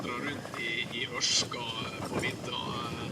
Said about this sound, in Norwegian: Det er ganske mye vind ute.